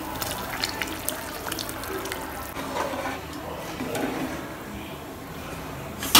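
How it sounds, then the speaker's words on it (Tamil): Tamarind water is poured into a simmering fish curry, giving a continuous splashing, trickling pour with small drips and liquid movement at a moderate, close level. "நல்லா புளி தண்ணியெல்லாம் ஆட் பண்ணியாச்சு"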